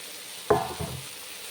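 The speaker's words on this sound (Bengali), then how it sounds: "এখন বড়াগুলো দিয়েছি কড়াইয়ে, এই যে রান্না করছি বড়া দিয়ে পোস্ত" Lentil fritters drop into a hot wok over fried onion and tomato, a sharp brief splash and sizzle followed by a second smaller hiss, then quiet low frying.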